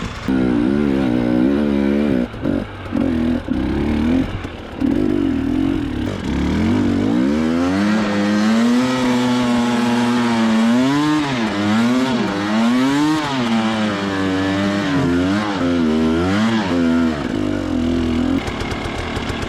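A motorbike engine during the Kosciuszko Killer 2022 race, loud and close, chugging at first and then revving repeatedly up and down in rising and falling surges as the rider works the throttle.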